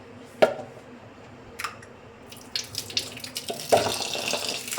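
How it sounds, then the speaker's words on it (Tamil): Tap water splashes in a kitchen sink while rice is rinsed, coming in short bursts of gurgling and trickling, with a louder, more continuous stream near the end. "இந்த பாருங்கள், அரிசியை நல்லா கழுவி ஊற வச்சுருக்கோம்"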